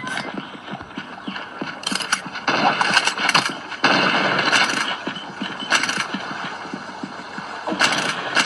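Rapid bursts of gunfire from a mobile shooter video game, repeated shots crackling in clusters over a continuous busy background of game sound, fairly loud throughout.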